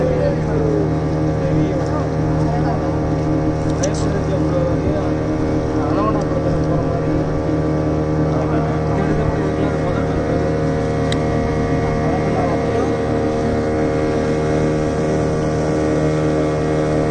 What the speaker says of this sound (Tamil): விவேகானந்தர் போட்டில் போகணும்ல?